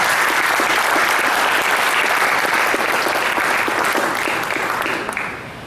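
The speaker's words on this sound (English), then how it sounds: "So give another round of applause to the scholarship committee." An audience applauds the scholarship committee at a graduation ceremony, a loud, dense, sustained clapping that continues steadily before tapering off near the end.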